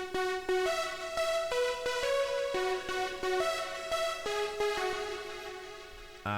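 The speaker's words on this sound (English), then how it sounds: "And then we get the main melody, which is just these two synths here." Two layered synths, one simple and one more aggressive with a detuned edge, play the main melody of a track produced in LMMS, a bright harmonic-rich line of steady stepping notes, loud and continuous with no voices.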